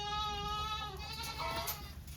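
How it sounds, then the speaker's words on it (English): Morning chorus of farm animals on a homestead with pigs, steady overlapping bleating and grunting calls close by, continuous and fairly loud with no talking. "So you can hear all the noise in the morning on a farm."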